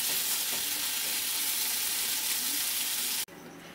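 Spring onion greens fry loudly in a pan, a dense close sizzling hiss that drops abruptly to a quieter simmer in the final half second.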